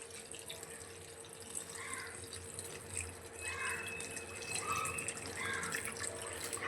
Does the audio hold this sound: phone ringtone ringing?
no